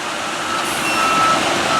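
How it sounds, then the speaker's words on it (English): A concrete truck pours concrete for a new basketball court, a steady broadband rumble and hiss with faint high beeping, continuous and fairly near with no talk. "First they pour it out of the truck, spread it out"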